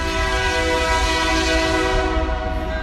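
A train rolls by nearby with its horn held in a long, loud chord above a heavy low rumble and faint clatter of wheels, the blast easing slightly toward the end.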